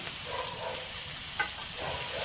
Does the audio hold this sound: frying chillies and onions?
yes